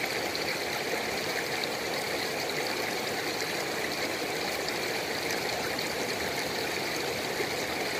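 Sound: panning gold in creek water

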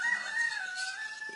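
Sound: rooster crowing

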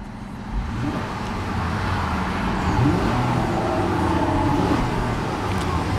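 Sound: 2008 Acura TL Type S engine revving

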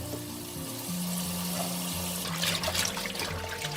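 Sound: rinsing kale vegetables in water

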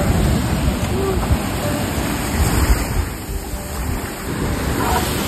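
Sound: sea waves breaking on the shore

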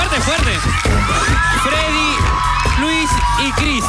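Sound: audience applause and cheering

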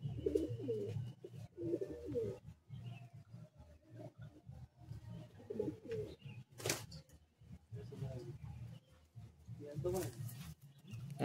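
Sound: pigeons cooing in a pigeon loft

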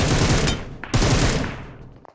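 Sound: gunfire in the video game PUBG Mobile

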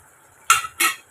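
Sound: stirring roasted spice powder into chickpea potato gravy

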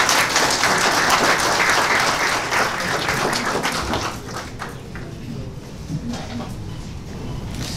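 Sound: audience applause at a conference

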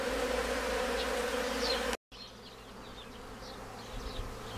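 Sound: honeybees buzzing

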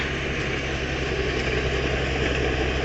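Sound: small engine of hay baler running

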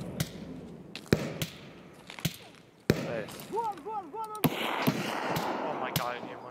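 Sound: gunshots in Escape from Tarkov video game, fight with scavs

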